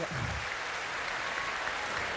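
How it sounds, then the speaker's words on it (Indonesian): An audience at an Indonesian inspirational talk event applauds steadily, a dense, even wash of many hands clapping at moderate distance, fairly quiet and without a break. "Oke, kasih tepuk tangan dong."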